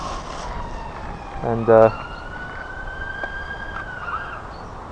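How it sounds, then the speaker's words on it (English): An ambulance siren wails near a small urban park in Birmingham, its steady tone running under outdoor ambience and a brief spoken word. "the sirens are annoying by the ambulance"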